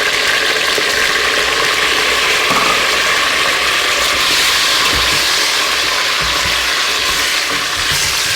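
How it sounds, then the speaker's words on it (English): Beef pieces frying in hot oil with Shan Masala spice mix for Pakistani nihari, a loud, steady sizzle with scattered crackles and occasional stirring clatter, no talking. "So first thing is to chuck the meat in. Start that frying off in the oil."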